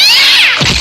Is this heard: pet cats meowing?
yes